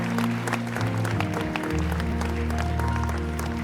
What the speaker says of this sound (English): So can we clap for Jesus?